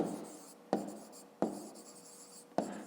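Pen on paper writing out the value of a maths expression by hand: soft scratchy strokes broken by three sharp taps, close and quiet, with no voices.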